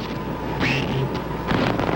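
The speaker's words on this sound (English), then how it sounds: "Gusts now topping 100 miles per hour." Strong hurricane wind roars continuously, with gusts topping 100 miles per hour buffeting the microphone in rising bursts, loud and close, with no voices.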